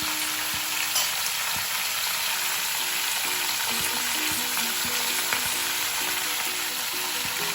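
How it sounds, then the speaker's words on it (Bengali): Mixed vegetables with jackfruit seeds frying in a pan, a loud, steady sizzle running throughout with soft knocks of stirring now and then. "সব আনাজ তোলা হয়ে যাওয়ার পরে একবার নাড়াচাড়া করার পরে ফ্লেমটা বাড়াবো"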